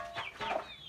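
A rooster gives a short, close cluck made of a couple of quick, rising calls that fade within a second, fairly faint.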